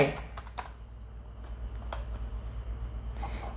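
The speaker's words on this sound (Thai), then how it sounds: "จะพิมพ์แบบปุ๊บปึ๊บปึ๊บปึ๊บปึ๊บอย่างนี้ก็ได้" Typing on a CANDY gaming keyboard with three-colour keycaps, a quick run of light key clicks at close range, fairly soft and irregular, with no voices.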